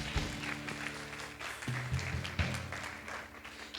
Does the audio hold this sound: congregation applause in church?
yes